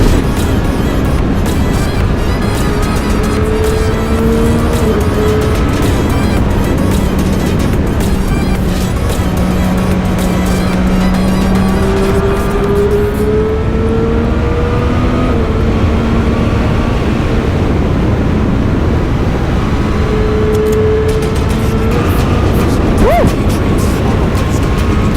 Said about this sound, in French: Mais quelle moto!